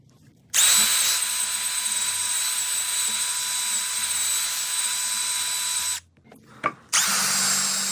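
A power-driven wire wheel scrubs a generator part clamped in a vise, a loud steady whirring grind held for about five seconds, stopping briefly and then starting again.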